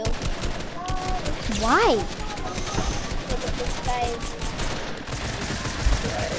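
Bursts of video game gunfire ring out mid-firefight, a short rapid volley up close alongside a player's voice, with other talk and game sounds continuing underneath.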